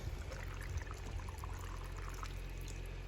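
Water is poured into a water-culture plant container, producing a faint, steady splashing and trickling stream heard alone for a few seconds.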